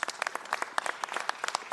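Brief applause for council staff at a city council meeting, a dense patter of many hands clapping at moderate distance.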